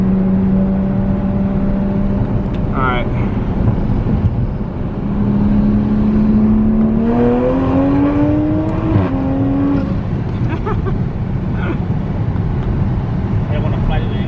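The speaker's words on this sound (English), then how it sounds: "This turbo spools instantly, anyways." A tuned, turbocharged Mk5 Toyota Supra accelerates from inside, engine pitch climbing steadily through the revs with a brief shift, while people talk over it.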